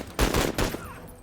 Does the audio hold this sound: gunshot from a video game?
yes